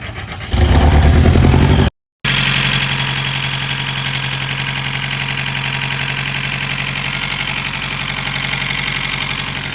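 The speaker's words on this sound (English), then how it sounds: "It's a very loud car. This thing is really loud. But basically, still has a cylinder 4 misfire." A very loud car engine with a cylinder 4 misfire starts and settles into a rough, uneven idle, running close and steady with a brief cut in sound early on and no talking.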